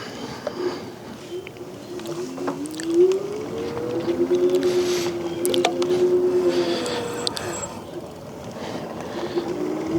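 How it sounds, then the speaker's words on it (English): The electric motor of an Invanti Tornado cargo e-bike on pedal assist level 1 gives a faint, rising whine that holds steady while riding, mixed with road and wind noise. "So the power definitely kicks in, even on pedal assist level 1."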